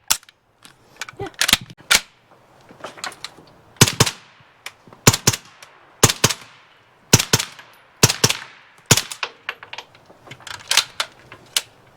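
A suppressed Turkish MKE AP5SD braced pistol, an MP5-SD clone, firing 147 grain subsonic rounds outdoors at a range: a string of sharp, dry cracks like a nail gun, fired singly and in quick pairs, loud and close.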